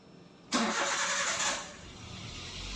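A Daihatsu Terios engine cranks and catches with a sudden rush, holding a steady roar for about a second before settling into a quieter idle, recorded fairly close with no talking.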